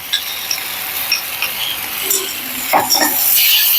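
A spatula stirs tomato and spice masala with turmeric and Kashmiri chilli powder in a pan for a sarputi fish curry. Soft, faint frying hiss runs under scattered light scrapes, with a louder stirring scrape near the end.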